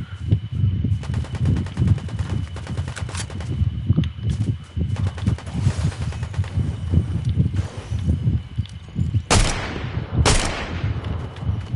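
Rapid automatic gunfire in Fortnite rattles on continuously, with a couple of louder sharp shots near the end; no talking.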